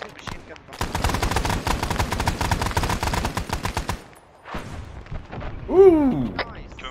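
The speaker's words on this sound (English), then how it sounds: "Machine gun." Machine gun fire in Arma 3, a loud sustained burst of rapid shots lasting several seconds, then a pause, a shorter burst and a voice speaking over the gunfire.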